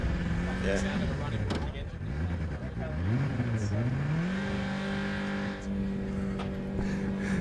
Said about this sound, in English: The rev of those CBR 600s is certainly a sound I've heard plenty of.